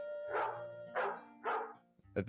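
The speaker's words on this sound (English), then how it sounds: "Those are 3 barks, because there are 3 heads to this damn thing." A dog barks three times in an even rhythm, each bark full and close, followed by a short sharper burst at the end, with no talking.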